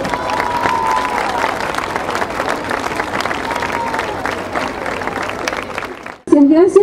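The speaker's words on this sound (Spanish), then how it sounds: "Un fuerte, fuerte aplauso." Families in a crowded gathering break into loud, sustained applause with some cheering, then it cuts off abruptly and a voice speaks over a microphone.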